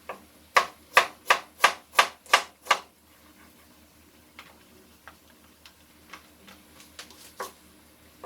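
A knife julienning a quarter onion on a cutting board gives about eight quick, sharp, evenly spaced chops up close. Fainter scattered taps follow in a quiet kitchen.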